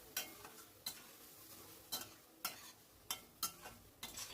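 Masala sautéed in a pan, a spatula striking and scraping the metal in regular sharp strokes roughly every half second over a soft sizzle, close up with no talking.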